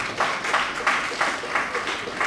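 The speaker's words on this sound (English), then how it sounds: "let's applaud him." An audience applauds at the inauguration of a university retirees' association, the clapping swelling in regular rhythmic pulses, moderately loud and heard on its own.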